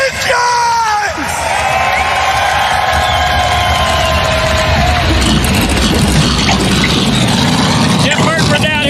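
Stock cars firing up their engines on the grid at the Daytona 500, a loud roaring mass of engines over a cheering crowd, with voices calling out over the din throughout.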